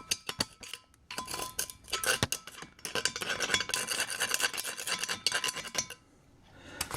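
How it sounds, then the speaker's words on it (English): A tool scrapes crud out of the intake ports of a Mopar 318 cylinder head with rapid, gritty strokes that run nearly nonstop at close range, with no talk. "scraping these two intakes to see what I get to fall out of the port"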